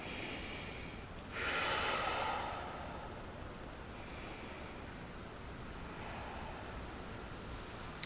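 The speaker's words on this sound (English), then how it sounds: "Take a few nice deep breaths." Slow deep breathing during a hip mobility stretch, one long audible exhale through the nose early on followed by quieter, fainter breaths over a soft background hiss.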